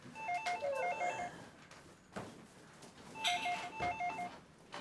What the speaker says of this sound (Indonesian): No, telepon berdering.